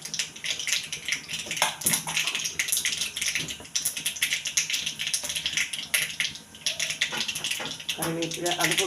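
Mustard seeds sputter and crackle in hot oil for a Kerala-style lunch with curry leaves and prawns, giving a dense, continuous sizzling hiss with sharp popping bursts throughout, close and fairly loud.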